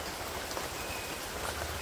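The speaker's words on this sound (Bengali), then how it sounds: "বৃষ্টি তো হচ্ছে, এই যে হাতটা ভিজে গেছে বৃষ্টিতে" Rain falls steadily outdoors near a fishing spot, a dense even patter of drops that fills the short stretch without a break.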